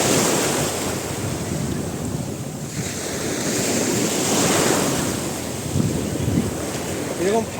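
Ocean waves roll onto an empty beach at Puri under a midday sun, a broad continuous surf roar with swelling breakers, mixed with heavy wind buffeting the microphone.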